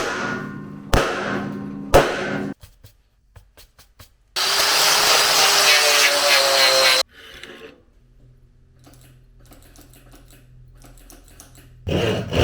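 Cables cut off a trike during a restoration: sharp snips and clatter, then a loud steady grinding or cutting burst of a few seconds, followed by quieter handling noises and another abrupt cut at the end.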